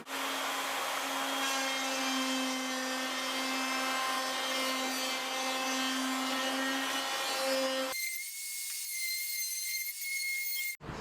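Router bit trimming the edge of an old Pearl marching tenor drum shell, climb cutting through the wrap. A loud, steady whine runs close up, then the pitch jumps higher for the last few seconds before cutting off abruptly.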